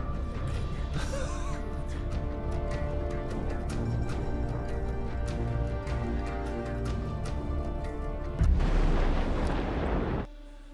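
A vehicle blows up in Just Cause 3 with a loud, roaring blast near the end, following a stretch of steady game noise and rhythmic clatter, then cutting off abruptly.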